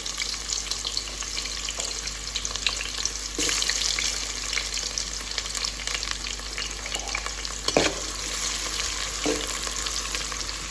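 Onions frying in a pan for curry leaves veg pulav, a steady close sizzle with occasional clinks and stirring scrapes, no talk.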